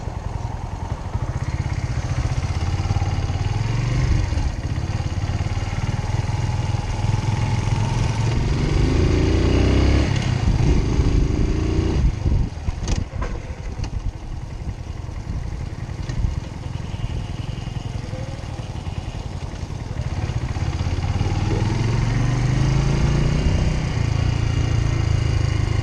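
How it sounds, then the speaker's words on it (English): A motorcycle engine on a training course revs hard through repeated rev-matched downshifts, a loud, continuous mid-pitched drone that rises and falls over about half a minute. "Bit of an aggressive rev match."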